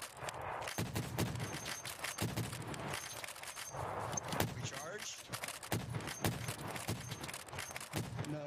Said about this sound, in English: He's shooting back.